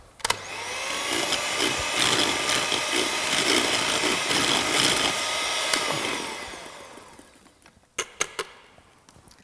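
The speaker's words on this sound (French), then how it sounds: "Et je vais mixer une dernière fois." A blender whirs loudly and steadily for about six seconds while mixing homemade scouring cream, then winds down, followed by a few sharp clicks and knocks.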